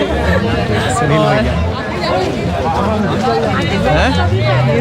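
Crowd babble at Sonprayag on the Kedarnath Yatra, a dense, loud mix of many voices talking at once close by, with occasional louder calls over the steady hubbub.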